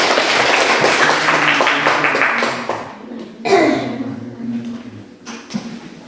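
An audience claps during a teaching session, a brisk burst of applause that fades after about three seconds, followed by a few scattered claps and taps in a quieter room.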